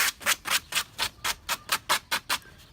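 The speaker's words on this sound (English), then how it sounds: "then we can give it a bit of a sand just to take off any sharpness" Sandpaper is rubbed over sharp edges and corners to smooth them, giving about eleven quick, evenly paced scratchy strokes up close with nothing else heard.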